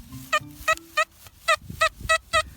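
A metal detector emits a series of evenly spaced, short beeping tones, about nine in a row, clear and close over low background rumble.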